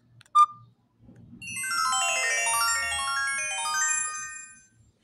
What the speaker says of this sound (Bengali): লাস্ট এইটা হচ্ছে রিংটোন